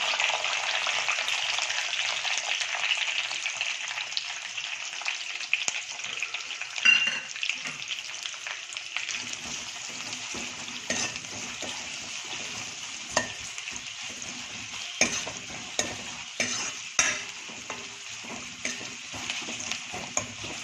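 Onions sizzle steadily in hot oil alongside curry leaves for a spinach chicken fry, with a continuous frying hiss broken by frequent scraping clicks of a spoon stirring the pan, close up and without talk.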